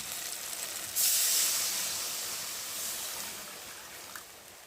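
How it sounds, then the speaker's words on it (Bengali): Water poured onto hot fried masala in a pan for a salted bhola fish curry, a sudden loud hiss that bursts up, then slowly fades into a softer steamy simmer. "চলো আমি এখন জল দিয়ে দেবো"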